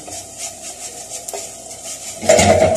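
Spoon scraping cooked chicken, cheese and rice off the walls of a pan, soft clinks over a low sizzle building to a louder burst of scraping and clatter near the end.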